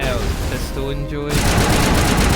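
Assault rifle fire in the sci-fi shooter Mass Effect: a dense, loud rattle of rapid shots that briefly drops out and then returns at full force, with a voice over the top.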